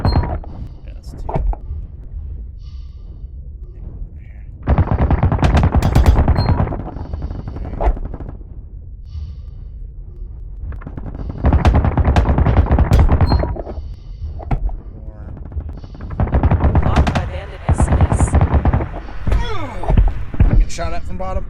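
Bursts of automatic gunfire in Call of Duty, with repeated loud volleys and sharp cracks separated by brief lulls, while players talk throughout.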